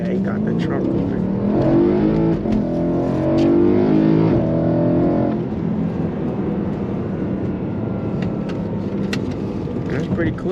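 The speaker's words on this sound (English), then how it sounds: "the car sounds pretty good" A BMW E92 M3 sports car engine revs hard and accelerates, its pitch climbing before easing off, with people talking over the engine noise.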